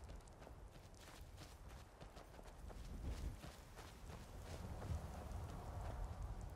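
Horse hooves clip-clop steadily along in the Skyrim video game, a quiet, continuous walking rhythm under light wind-like background noise, with no talking.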